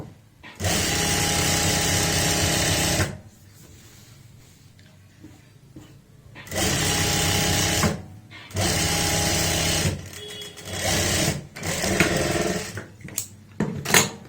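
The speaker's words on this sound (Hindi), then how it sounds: "जोड़ने का सेम तरीका होगा, आधा इंच का ही मार्जिन यहाँ पे रखेंगे और जोड़ लेंगे।" Sewing machine stitching a palazzo pants seam with half-inch margin, close and loud in several bursts of steady whirring, separated by short quiet pauses and fabric handling.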